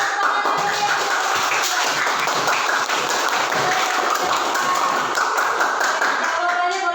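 A classroom breaks into applause after a student group's performance, with steady lively clapping from many hands throughout, close and sustained.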